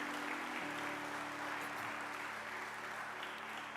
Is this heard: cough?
no